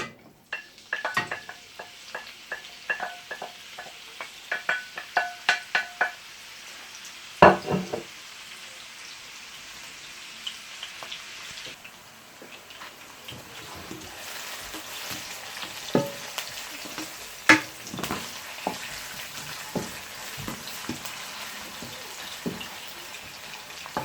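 Onions and green pepper fry in hot oil for a sauce, a low, uneven sizzle punctuated by clinks and taps of a utensil against the pot, with the frying growing steadier toward the end.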